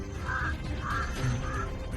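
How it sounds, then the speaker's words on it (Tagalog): Crows caw three times in a slow sequence, harsh and moderately close, over a low rumbling outdoor background with no one speaking. "ang dami namang uwak"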